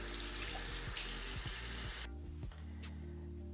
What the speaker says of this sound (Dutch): En met water eraf spoelen.